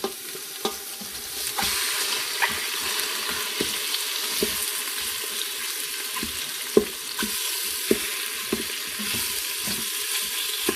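Soy-marinated pork sautés with a salt, pepper and garlic blend, turned with a paddle in the pan. A loud, steady sizzle runs throughout, with sharp scraping clicks from the paddle at irregular intervals.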